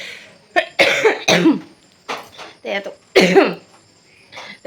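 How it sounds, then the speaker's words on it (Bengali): Several harsh, loud coughs come in bursts close to the microphone, each a short chesty rasp, with quieter pauses and throat sounds between them, during an evening home cooking session. "এত কাশি হচ্ছে আর কি বলবো"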